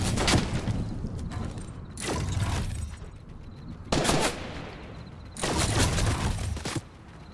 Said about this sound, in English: Whoa, getting shot from the side.